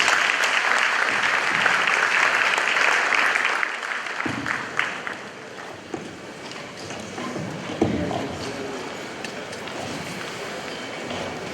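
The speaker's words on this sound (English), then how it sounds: "With a round of applause, shall we welcome the Chief Justice for his remarks." A large audience at a Supreme Court 150th anniversary ceremony applauds to welcome the Chief Justice, a broad sustained wash of clapping that softens midway and picks up again with a few sharper claps.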